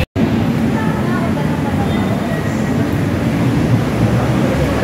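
A light rail train hums and rumbles steadily from inside or close by, a continuous low mechanical roar after a brief cut at the start.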